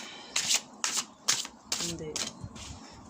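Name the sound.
shuffling a deck of cards to draw another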